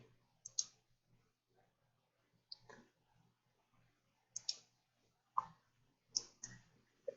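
A computer mouse clicks while someone plays the browser game Nemexia, giving several sharp, close clicks in pairs and singles with quiet gaps between them.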